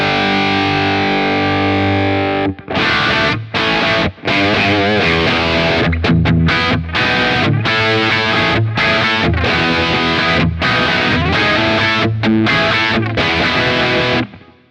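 Distorted electric guitar through a Kemper Profiler amp profile plays dense, loud riffs with sharp stops and restarts, after a held chord at the start, with no talking.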